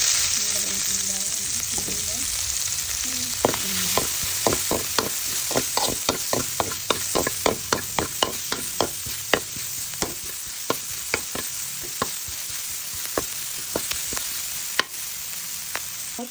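Chicken and garlic fry in a little oil, giving a steady, close sizzle broken by a run of sharp clacks and scrapes from stirring. No one speaks.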